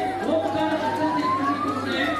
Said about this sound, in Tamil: ஆயிரக்கணக்கான பக்தர்களுக்கிடையே ஆம்புலன்ஸ் கடந்து சென்றது.